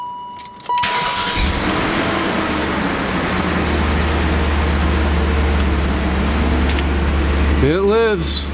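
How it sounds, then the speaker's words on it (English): A BMW E39 M5 engine cranks and fires up, then settles into a loud, steady idle with a ticking lifter noise underneath; a brief squealing sweep rises near the end. "Had some lifter tick there on startup."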